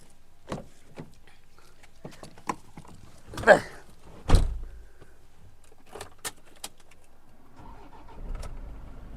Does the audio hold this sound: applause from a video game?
no